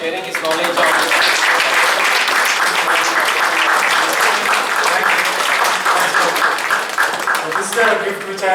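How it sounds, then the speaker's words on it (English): An audience applauds a guest speaker, Vikram, after his talk on GitHub Copilot and AI: steady, dense clapping from a sizeable room, loud and sustained throughout, with a few voices mixed in. "Big round of applause for Vikram"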